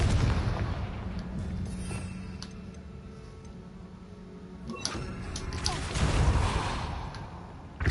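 A Confringo fire spell cast in Hogwarts Legacy: soft ticking and low rumble, then a booming blast with a crackling burst, followed by a second loud impact near the end.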